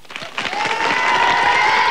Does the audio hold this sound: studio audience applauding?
yes